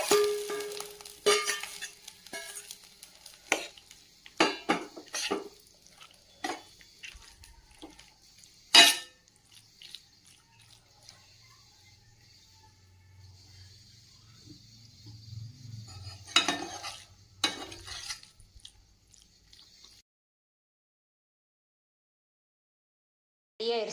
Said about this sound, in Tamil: இதை இப்போ இந்த காளானோட மிக்ஸ் பண்ணிக்கலாம்.